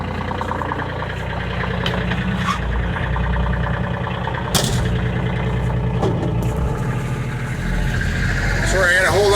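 A Kioti K9 utility vehicle fitted with a track kit, engaged in four-wheel drive, its engine droning steadily and rising as it pulls away, with someone talking over it.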